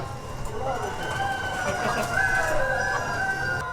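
Rooster and hens roaming a free-range egg farm: steady clucking and calls fill the scene, with a louder crow-like call near the middle, under and around people talking.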